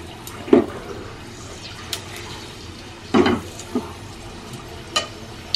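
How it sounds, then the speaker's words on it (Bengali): Whole garam masala with cinnamon, two bay leaves and a dried red chilli dropped into hot oil, giving a soft steady sizzle broken by a few louder crackling bursts and light pan clinks. "এই তেলটাতেই দিচ্ছি গোটা গরম মশলা।"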